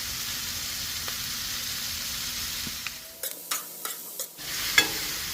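Steak fajita peppers on a Blackstone griddle give a steady, close sizzle, broken partway through by a few sharp scraping and stirring clicks from a spatula, with no voices.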